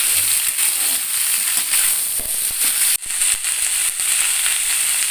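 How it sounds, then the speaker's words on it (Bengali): Cauliflower stems and cabbage leaves fry alongside other vegetables in a pan, a loud, dense, unbroken sizzle up close with a brief dip and a few sharp knocks of a spoon, no talking. "কপির ডাঁটা দিয়ে দিলাম আর বাঁধাকপির পাতা এইবার এইগুলোকেও বাকি সমস্ত সবজিগুলোর সঙ্গে একটু ভেজে নিতে হবে"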